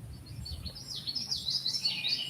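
Faint outdoor birdsong, with light chirps and tweets weaving continuously over a soft low background hum.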